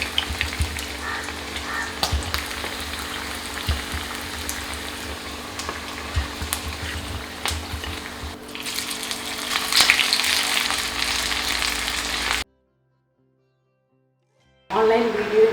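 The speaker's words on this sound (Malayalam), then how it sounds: "ഇതുപോലെ ഫ്രൈ ചെയ്ത് എടുക്കാം." Pinwheel samosas fry in hot oil with a constant close sizzle and bubbling, broken by occasional light scraping. The sound cuts to silence near the end, then the frying briefly returns.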